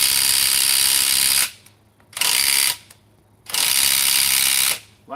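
A hand ratchet being tightened and loosened, three bursts of loud rapid clicking separated by short quiet gaps, close up and alone.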